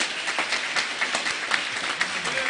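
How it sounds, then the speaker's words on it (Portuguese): A church congregation claps together during a worship service, a steady dense patter of many hands, fairly even and moderately loud with no voices over it. "Palmas para Jesus"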